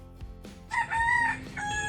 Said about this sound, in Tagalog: Ayun, may manok pa.